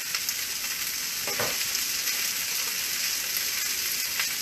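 Cooked ginger, mushrooms, asparagus, onions and carrots sizzle in a pan for a beef stir fry, a steady close hiss with one brief scraping stir partway through, no voices.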